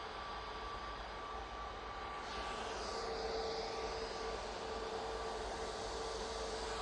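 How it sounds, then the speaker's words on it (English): An Emirates Airbus A380 airliner at Manchester Airport produces a steady, faint, distant jet roar with a thin whine, continuous and even throughout with no voices. "It is the Emirates A380."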